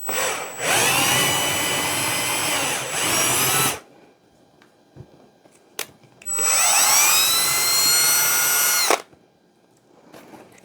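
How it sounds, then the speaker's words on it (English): A power drill whines loudly in two sustained bursts of a few seconds each, drilling through a wooden spool, with a quiet pause and small knocks between them. "I'm just going to put my drill through that."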